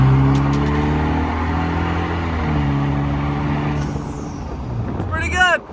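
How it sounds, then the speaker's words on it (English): A Vanderhall Carmel car accelerates with a rising engine drone whose tones climb and shift through the run, heard from inside the open-roof cabin, with wind noise and a brief voice near the end. "let's see how the acceleration is in the Vanderhall here"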